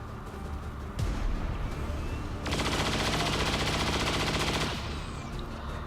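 Sustained automatic gunfire from XCOM 2 on Commander difficulty, a dense rattling burst of rapid shots that swells loud after a single crack and runs for about two seconds before cutting off.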